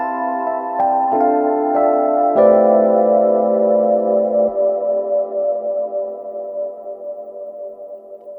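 A melodic audio sample run through reverb with a long decay, several plucked-sounding notes and chords blending into a sustained, washing tail that lingers and keeps ringing to the end.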